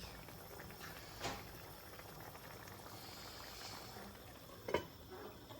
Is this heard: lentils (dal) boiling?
yes